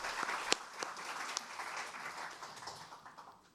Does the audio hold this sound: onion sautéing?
no